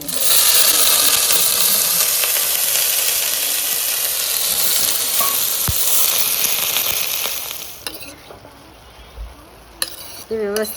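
Soaked raw banana pieces hit hot oil tempered with mustard seeds and curry leaves, setting off a loud, close sizzle. The hiss fades after several seconds, leaving a few light clinks of a spoon and pan.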